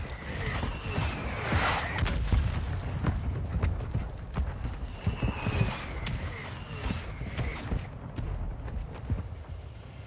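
Heavy airstrike blasts and rumbling booms in the Warzone 2 battle royale, a dense roll of loud impacts with sharp cracks and gunfire-like bursts, no voices.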